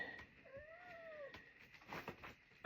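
A cat gives a single drawn-out, rising-then-falling meow at close range over a quiet, faintly noisy background.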